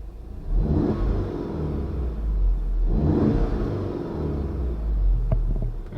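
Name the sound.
Volkswagen MK7 Golf engine revving as gas pedal pressed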